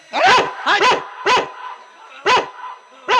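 A dog barks five times close up and loud, in uneven sharp bursts with short gaps between them, during a Tikota comedy stage play.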